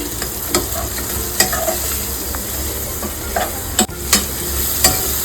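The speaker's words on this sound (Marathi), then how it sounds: "आता याला आपण मिक्स करूया." Chicken biryani is stirred and mixed in a frying pot, with a continuous sizzle under repeated scraping and clanking strokes of the spoon against the pot, several sharp and close.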